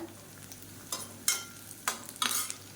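Onions fry in a pan toward golden brown under a low, steady sizzle, broken by three or four sharp scraping stirs from a spoon, all close by with no talking.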